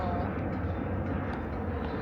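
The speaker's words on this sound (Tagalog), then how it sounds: "Tapos habang may dumadaang eroplano." An airplane passing overhead, a broad steady engine roar filling the whole moment with no clear rise or fall, heard outdoors.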